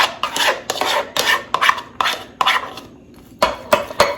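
Cooked chicken is stirred with salad fixings in a bowl, a spoon scraping and rasping against the sides in steady repeated strokes, close and crisp, with one brief pause before the mixing resumes.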